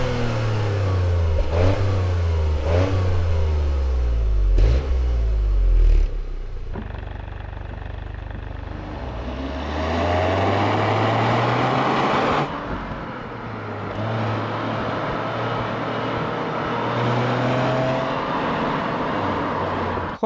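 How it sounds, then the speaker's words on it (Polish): Toyota GR Yaris with automatic gearbox revving hard through its twin exhaust tips, loud rising and falling engine sweeps with repeated pulls, gear changes and a throaty drone while accelerating, no talk over it. "dwie konkretne końcówki układu wydechowego, które naprawdę sensownie brzmią"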